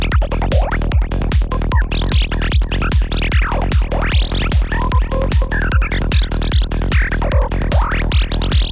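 A juicy synth wavetable lead playing a wandering, sliding melody over a steady four-on-the-floor kick and bass, loud and dense, with regular punchy thumps under it throughout and no voices.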